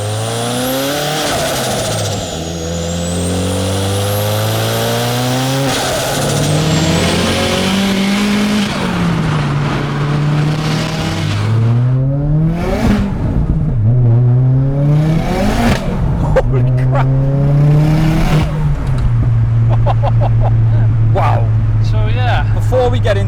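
Vauxhall Astra VXR fitted with a big turbo and a new clutch accelerates hard through the gears, its engine note climbing and dropping in repeated rising sweeps with turbo whoosh, loud and close, with a person talking over it.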